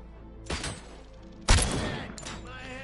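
Two loud sniper rifle shots ring out in Robocop: Rogue City, about a second apart, each a sharp crack followed by a decaying echo tail.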